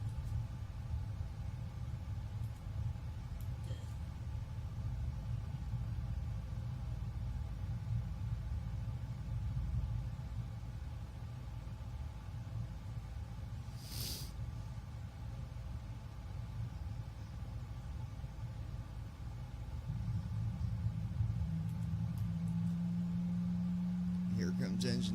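Large aircraft engines start up as a steady low rumble and hum, with a rising whine that builds near the end as one engine spools up.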